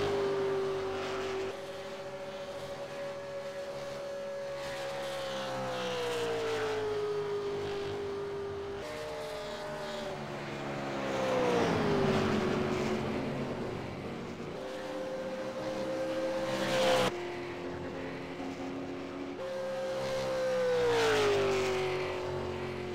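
Race cars lap the Charlotte oval in a racing game, their engines droning steadily and swelling as each car comes past, repeating in long passes with no voices.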